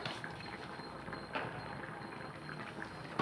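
A soft, steady bubbling and hiss of egg curry simmering in a pot, low and continuous with a few faint clinks.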